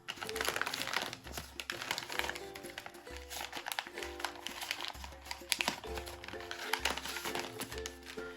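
Brown paper wrapping on a Potter Loot subscription box package tied with string being handled and unwrapped, with steady close crinkling and rustling throughout and a low hum underneath.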